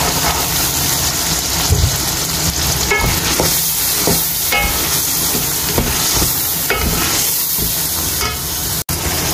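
Peas added to masala frying in a pan, with steady loud sizzling and crackling throughout and occasional spoon scrapes, close and with no talk.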